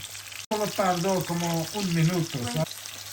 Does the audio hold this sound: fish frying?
yes